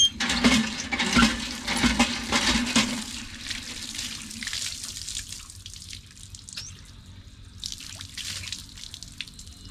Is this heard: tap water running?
yes